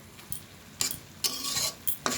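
A spoon stirs red amaranth greens curry, a thickening rice-flour ghonto, in a kadai; four or five short scraping clinks of utensil on pan break a quiet background, close and crisp.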